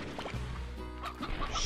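Chickens in the farming game Slime Rancher, a short burst of close clucking and bird chatter over a low steady hum lasting under two seconds.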